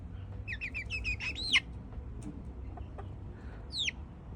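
A young chicken gives a soft, close series of rising trills and chirps, several quick notes in a row, then a pause and one more trill.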